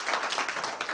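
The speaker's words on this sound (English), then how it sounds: "Let's have a round of applause for him." Audience clapping for a reverend at a lecture gathering, a moderate, steady patter of many hands with brief louder peaks, heard without speech.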